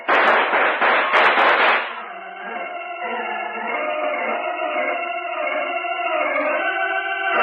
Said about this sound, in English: Let's give them a volley they won't forget.